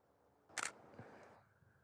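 Single-lens reflex camera shutter firing once at 1/2000th of a second, a sharp close mechanical click-clack in quiet surroundings, followed by a faint softer mechanical sound.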